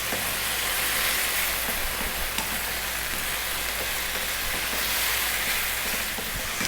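Onion and fresh chili frying in a pan for a lamb mutton curry, a steady dense sizzle with broadband crackle holding loud and even throughout, no voices.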